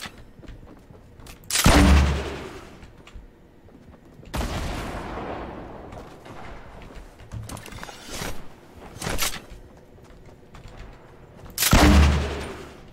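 Several loud, booming gunshot bursts in the Fortnite Season 8 video game, separated by quieter stretches with smaller cracks and rumbles, heard close and without talking.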